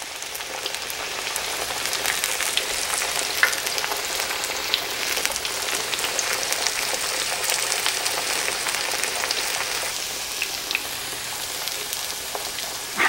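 Thin breaded meat pieces fry in oil with a dense, even, rain-like sizzle and crackle, steady and close for the whole stretch with scattered small pops, with no speech over it.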